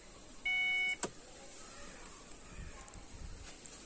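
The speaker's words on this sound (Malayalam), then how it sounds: "ഇങ്ങനെ അലാറം അടിക്കും ഇത് ഓൺ ആകുമ്പോൾ" A Ford Fiesta's interior alarm sounds once when switched on: a single short electronic beep inside the car, followed by quiet cabin ambience.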